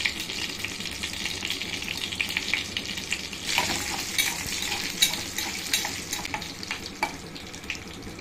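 Raisins frying in ghee for mung dal payasam, a dense steady sizzle close by, with scraping stirs and occasional light clinks of utensil against the pan.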